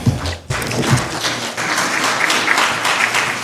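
Audience applause breaks out at a live-streamed corporate talk on workplace well-being, a dense, even clatter of many hands that holds steady after a brief dip at the start.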